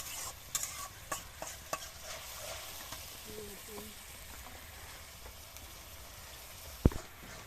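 Spice paste for a duck curry is stir-fried over a leaf-fuelled village stove at night, making a soft, quiet sizzle with scattered scraping clicks from stirring, a faint voice briefly in the background and a sharper clank near the end.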